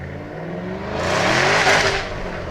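A 2011 Ford Shelby GT500 launches with traction control off, its V8 rising to a loud roar while the rear tyres spin and whir, swelling in the middle and easing slightly at the end; close and without talk.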